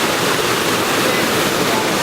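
Inong Falls pouring nearby, a loud, dense, steady roar of rushing water with no breaks.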